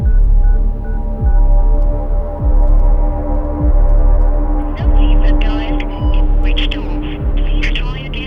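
A mobile phone call is dialed to a number that turns out to be switched off: a low hum carries a repeating pattern of dialing tones, and voices can be heard in the background toward the end.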